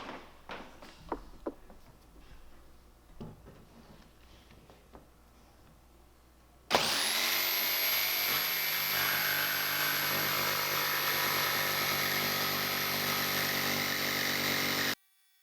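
A power tool cuts through the sheet-metal roof of a long, high-roof Ford Transit van to fit a roof fan. After a few quiet seconds of light handling clicks, it starts abruptly and runs loud and steady with a high whine for about eight seconds before stopping.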